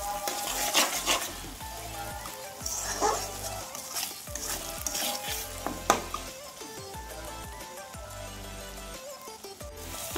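Banana flower curry sautéing in hot oil in a pan, a steady close sizzle broken by intermittent scraping and stirring bursts, with no talking.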